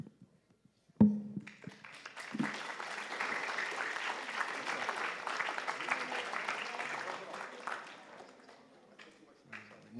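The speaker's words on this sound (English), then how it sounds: "Can we give another round of applause to all our speakers for today?" An audience applauds speakers at a back-to-school Islamic revival event: sustained, dense clapping from a large crowd fills the hall for about seven seconds after a sharp start, then tapers off, with a brief voice near the end.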